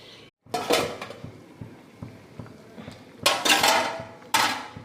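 Metal pot clatter while a fish curry is stirred and covered with a lid: several sharp clanks and scrapes of utensil and lid against the pot, close and fairly loud, with no talking.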